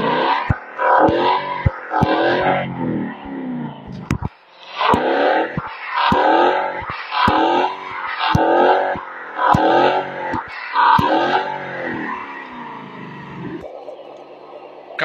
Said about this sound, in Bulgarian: Пускаме на неутрал. И ще подадем малко газ.